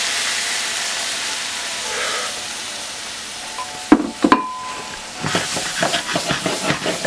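Beef stock poured into a hot pan with steak runoff, a steady hiss broken by a few sharp clatters, then a bubbling, crackling sizzle up close.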